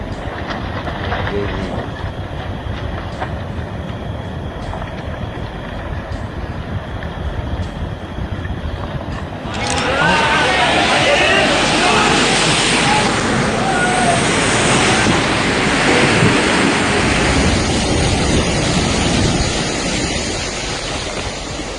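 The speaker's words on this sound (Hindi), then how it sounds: "2020 के दौरान नॉर्वे में रिकॉर्ड हुई इस लैंडस्लाइड की घटना के दौरान जमीन का बड़ा हिस्सा समुद्र में समा गया।" A large mass of land collapses into the sea during a 2020 landslide in Norway, a heavy continuous rumble and roar that surges louder midway and stays sustained, with wind noise over it.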